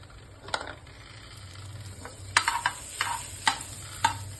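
A folded frankie roll fries in butter in a pan, a soft continuous sizzle under scattered sharp scrapes and taps of a spatula against the metal, clustering toward the end.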